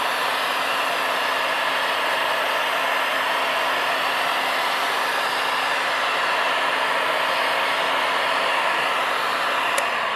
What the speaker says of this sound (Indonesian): lalu saya akan nyalakan heat gun-nya